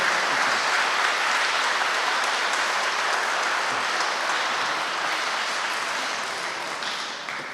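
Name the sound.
audience applause at school concert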